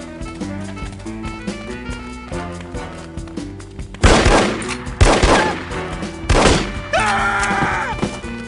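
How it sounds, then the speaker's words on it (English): Gunfire erupts in the stealth shooter game No One Lives Forever: loud, punchy bursts of shots break in over a tense musical score, with a couple of separate volleys following close together. "I thought I heard gunshots."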